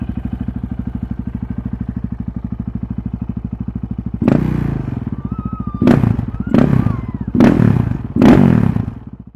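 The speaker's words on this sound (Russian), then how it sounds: "Сердцем для Honda FMX 650 стал одноцилиндровый мотор объемом 644 кубических сантиметра воздушного охлаждения" Honda FMX 650 motard with a single-cylinder air-cooled 644cc engine, idling with a loud steady pulsing thump, then several sharp throttle blips in quick succession, nearby with no talk.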